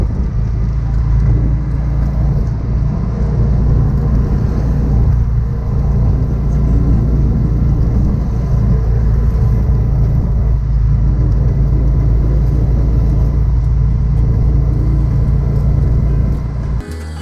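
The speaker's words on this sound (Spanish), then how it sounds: "pues nos hemos subido a una de las motos, como pueden oír." A motorcycle engine drones steadily throughout a ride, with a low rumbling hum and slight shifts in revving, close and continuous.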